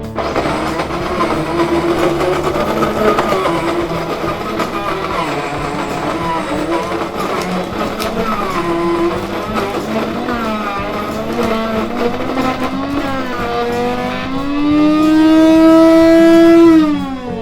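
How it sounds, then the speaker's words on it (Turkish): A coffee grinder grinding beans for cold brew whirs steadily and loudly, its rough grinding drone shifting pitch near the end into a higher, smoother whine. "Fark ettiyseniz değirmenin sesi bir anda değişmeye başladı."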